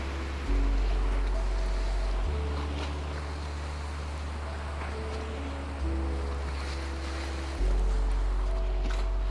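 Steady roar of wind and rushing waves surrounds a brig under sail in the sailing game Sailwind, with low droning swells that shift in level every few seconds and no voices.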